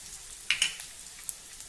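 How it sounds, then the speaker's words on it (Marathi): Crushed ginger and garlic hit hot oil while a spiced sprouted-chickpea dish is prepared, giving a faint, brief sizzle marked by a couple of sharp crackles over a low hiss. "तेल गरम झालं की त्यामध्ये 1 टीस्पून ठेचलेलं आलं आणि लसूण घालूया"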